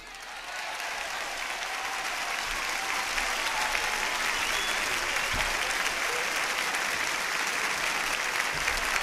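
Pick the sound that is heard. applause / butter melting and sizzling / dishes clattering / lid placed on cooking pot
applause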